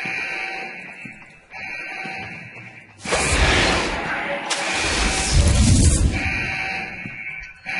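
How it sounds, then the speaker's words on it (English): An alarm buzzes in Deus Ex: Human Revolution, a harsh electronic tone that drops out, returns, then is swamped by heavy booming crashes and rumble before the buzzing resumes. "Turn off the alarm, you idiot."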